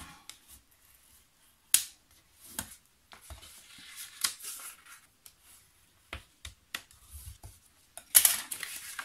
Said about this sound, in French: on va marquer les plis